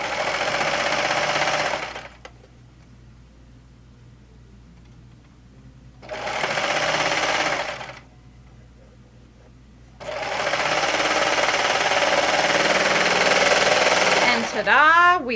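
Serger sewing machine stitching seams on a knit shirt, fast whirring bursts close by, three runs of about two to four seconds separated by quiet pauses, with a voice speaking briefly at the end.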